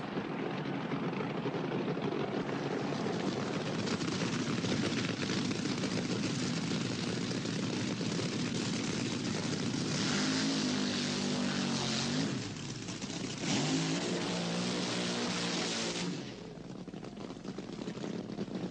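Don Garlits and Peter Crane do drag racing burnouts at Santa Pod, a loud, sustained, roaring engine blast that holds steady, shifts in pitch partway through and then eases off near the end.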